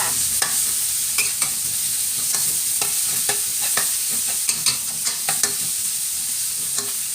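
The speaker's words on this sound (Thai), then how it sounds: "ผัดพริกกระเทียมให้หอมจ้า" Chili and garlic stir-fried in hot oil in a pan, a steady bright sizzle broken by repeated sharp scrapes and clacks of a spatula at an uneven rhythm, close and fairly loud, no voices.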